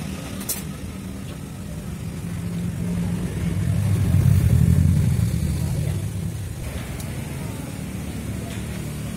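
A motorcycle engine rumbles steadily while riding, swelling in loudness midway and then easing back, under a constant road drone.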